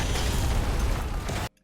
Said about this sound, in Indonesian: ledakan barusan menghabisi semua musuh yang mengejarnya